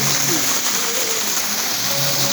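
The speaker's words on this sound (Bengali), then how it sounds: "এই দেখেন বৃষ্টির জল পড়ছে, বৃষ্টির জল পড়ছে" Heavy rain pours down steadily during days of downpour in Shailkupa, with knee-deep floodwater pooled on the ground; a dense, continuous hiss fills the air close by, with no pauses.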